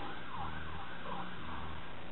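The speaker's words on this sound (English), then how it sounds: "Ambulance." An ambulance siren wails in slow rising and falling sweeps as it passes, loud and steady throughout with a low road hum underneath.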